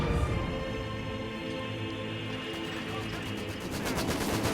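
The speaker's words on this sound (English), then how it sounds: "That is except when there's a mortar trying to kill me, which is actually right here" Mortar and gunfire in Company of Heroes 2, a WWII strategy game, with Soviet and British forces battling Wehrmacht and OKW; dense, continuous rumbling barrage of shots and blasts that swells louder toward the end.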